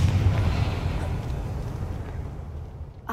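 A Confringo explosive spell goes off in the video game Hogwarts Legacy: a loud, rumbling blast that rolls out and slowly fades over a few seconds, with some game sound beneath it.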